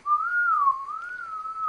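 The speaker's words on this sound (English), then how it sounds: "Yeah, that's how I whistle." A person whistles a single clear, wavering tone that slides gently up and down, loud and alone in a quiet room.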